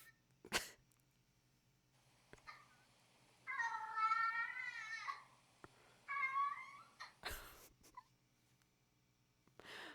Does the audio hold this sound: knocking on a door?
no